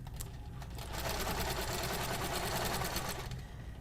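Sewing machine fitted with a ruler base runs steadily at close range, a continuous rapid needle hum and rattle that holds for several seconds before tapering slightly at the end, with no talking.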